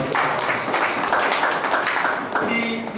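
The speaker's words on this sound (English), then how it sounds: "Can you clap your hands for me?" An audience at a university event claps its hands in a dense burst of applause, loud and sustained for a few seconds before thinning out at the end.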